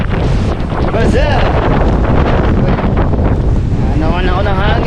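Strong wind buffeting the microphone outdoors near water, loud and continuous roaring rumble throughout, with voices breaking through in places.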